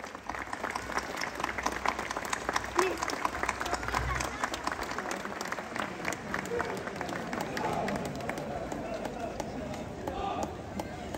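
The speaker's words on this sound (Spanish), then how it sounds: "¡Que se escuchen esos aplausos!" Crowd applause for the arrival of the Virgin of El Cisne in central Loja, Ecuador, a dense, sustained outdoor clapping mixed with cheering voices from a large gathering.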